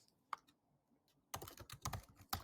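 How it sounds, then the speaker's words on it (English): Typing on a computer keyboard: a lone keystroke, a pause, then a quick burst of clicky keypresses up close, with no voices. "what I ended up typing into Pinterest would be things like"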